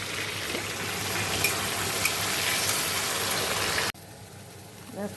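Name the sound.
frying and stirring masala for jackfruit and mutton curry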